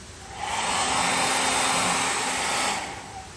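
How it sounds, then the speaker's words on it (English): A hair dryer roars steadily at close range, starting up, running for about two seconds with a constant airy whoosh, then easing off. "I'm going to go ahead and hit it with a hairdryer"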